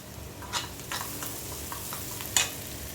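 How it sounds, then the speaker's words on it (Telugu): Onions fry with salt and turmeric while being stirred, a faint steady sizzle with soft scraping stir strokes and occasional louder scrapes close by. "ఆనియన్స్ వేగుతున్నాయి కదా, కాస్త పసుపు"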